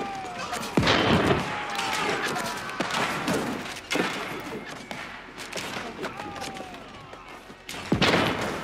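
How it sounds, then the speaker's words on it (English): Cannon fire in the real-time strategy game Age of Empires IV during a 1v1 English versus Chinese match, a string of heavy booming blasts and crashes over busy battle noise, with players talking over it. "Yeah, they're cannons."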